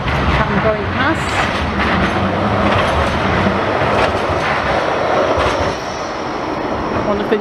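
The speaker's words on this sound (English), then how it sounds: "One of the newer trams." A newer tram rolls along a seaside promenade. Rail clatter and a rumbling roar pass close by with some wheel squeal, and the noise eases off near the end. A voice is faintly audible under it.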